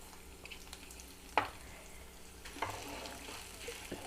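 Urad dal and chana dal fry in a pan with a soft, faint sizzle, broken by a few light clinks and scrapes of stirring, with no talking.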